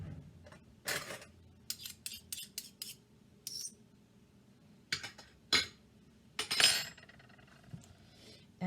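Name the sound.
spooning a heaping tablespoon of chili sauce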